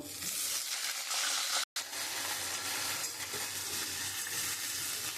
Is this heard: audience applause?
no